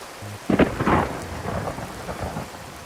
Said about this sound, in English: It's so cold and it's raining.